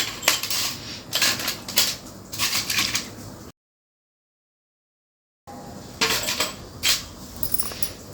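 Small oil lamps are set down one after another onto a plate while preparing for a Karthigai Deepam celebration, giving bright clinks and rattles in clustered bursts, then a short silence before more clattering.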